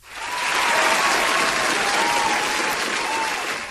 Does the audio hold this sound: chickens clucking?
no